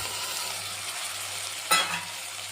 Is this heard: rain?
no